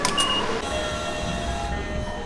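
A passenger train in Japan runs with a steady rumbling roar and brief high electric whines and tones, heard from inside a carriage.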